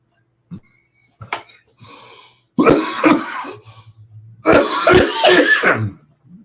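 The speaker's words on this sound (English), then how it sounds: "Just had one of those coughing fits" A person coughs and clears their throat in a fit, with scattered short coughs building into two longer, harsh bouts of coughing.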